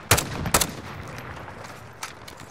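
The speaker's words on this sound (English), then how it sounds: "They're shooting behind us at blue." Gunfire in Call of Duty Modern Warfare: two sharp, loud shots close together near the start, followed by fainter distant pops and a later single crack, over a low ambient background.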